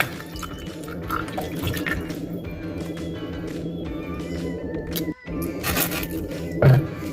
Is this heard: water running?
yes